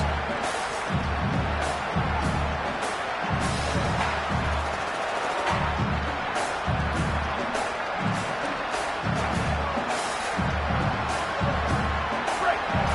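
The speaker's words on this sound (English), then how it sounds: "listen to this crowd noise. This stadium is vibrating." A dense, roaring crowd fills a college football stadium continuously, with rhythmic low thumping underneath and a voice talking over it as the quarterback is pressured.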